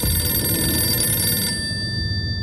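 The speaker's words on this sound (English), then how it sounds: "The phone ring was not like a typical cell phone ring. It was more like an old house phone." An old-style landline house telephone rings with a loud, close, continuous metallic bell trill that cuts off partway through, leaving a quiet hiss after it.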